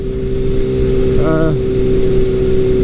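A 1981 Kawasaki KZ1000 motorcycle with a Delkevic exhaust, full baffle in place, runs loudly and steadily with a low, throaty drone close by, and a brief tonal whine rises partway through.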